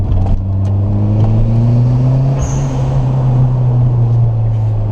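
A 1995 Eagle Talon TSI engine revs steadily under a bridge, a loud, sustained drone with rising and falling pitch that fills the whole clip, close and unaccompanied by talk.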